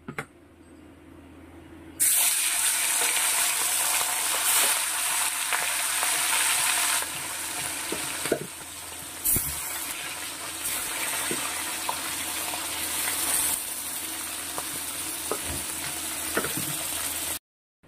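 Cut pieces of fish frying in oil, a loud continuous hiss and crackle that starts abruptly and holds steady, with occasional clinks and pops.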